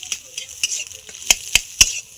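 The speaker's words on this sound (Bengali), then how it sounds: "এইবার আমি সব মশলা একসাথে ভালো করে মিশিয়ে নেব" A spoon scrapes and knocks against a pan as garam masala and coriander powder are mixed into a filling: about eight sharp, separate scrapes at an uneven pace, close and clear, with no talking.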